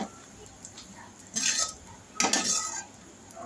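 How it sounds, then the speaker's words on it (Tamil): Dried red chillies roasting in a little oil for black urad dal idli podi, heard as two bursts of metal spoon scraping and clinking against the pan over a quiet background, no voices. "கொஞ்சமாக எண்ணெய் ஊற்றிட்டு இந்த மாதிரி வறுத்து எடுத்துக்கோங்க"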